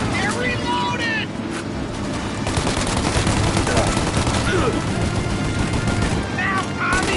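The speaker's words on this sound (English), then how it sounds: "Shoot out your gun when there's a break in the fire!" Gunfire rattles through a shootout in the Mafia video game, with dense bursts of shots and crackling impacts over a running vehicle, close and loud, while voices shout over the fire.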